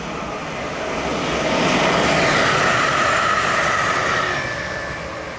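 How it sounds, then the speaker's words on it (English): A passenger train rushes past in a steady, loud roar that swells to a peak and then eases slightly as it moves on. "oh, this is just another passenger train."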